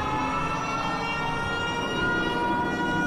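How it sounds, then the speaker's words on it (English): A video game air raid siren wails and drones continuously against a dense, rumbling backdrop, loud and unbroken throughout. "that's the air raid siren"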